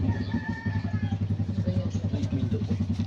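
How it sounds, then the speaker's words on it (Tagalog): A motorcycle idles nearby after stopping, its engine putting out a steady, close, rhythmic low chugging throughout with faint clatter on top. "may huminto na motor"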